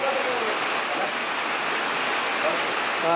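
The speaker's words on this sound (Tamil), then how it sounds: "நம்ம அந்த இடத்துல சுற்றி பார்த்துட்டு இருக்கும்போதே மழை வந்து ஸ்டார்ட் ஆயிடுச்சு" Rain falls steadily near a small stream in a forest tent-camp setting, making a dense, continuous hiss of water that stays loud and even throughout with no talk.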